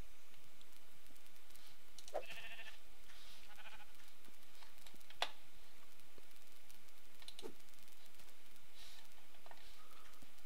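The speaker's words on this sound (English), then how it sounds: "Oh yeah, sheep." Minecraft sheep let out a few short bleats over a quiet background, with light clicking between them.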